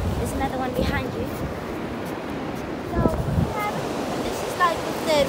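Small ocean waves wash in and break on a beach where Portuguese man-of-war lie stranded, a steady surf hiss with a couple of louder surges and some wind buffeting the microphone.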